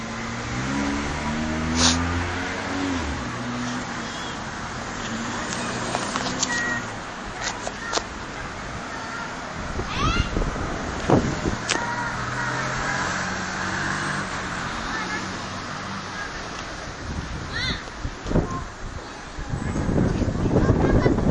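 Cars passing along a city street near a post office, with a steady traffic hum, a few louder swells as vehicles go by, wind buffeting the microphone, and people talking in the background.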